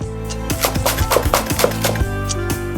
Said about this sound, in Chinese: 煮鱼当然少不了葱姜蒜，把它们全部切末